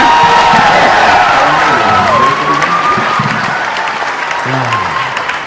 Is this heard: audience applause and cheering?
yes